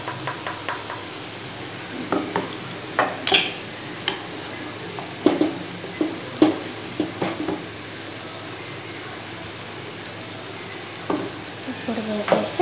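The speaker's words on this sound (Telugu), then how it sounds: "పొడి వేసేసి కలిపేసుకునేది. దాని యొక్క ఆకు కనుక పట్టేలా కలుపుకోవాలన్నమాట." Ground powder being stirred into cooking leaves in a pan, with repeated scraping and clinking of a utensil against the pan over a faint sizzle, at an uneven rhythm.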